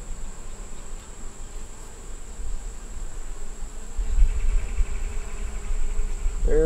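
Honeybees hum steadily around open hive frames filled with brood and young larvae, a continuous close insect drone that swells louder partway through.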